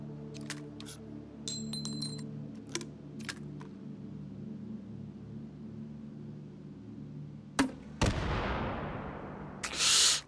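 Gunfire in the VR shooter Hot Dogs, Horseshoes & Hand Grenades: a couple of sharp, loud shots ring out near the end over a steady low hum, preceded by scattered clicks and clinks.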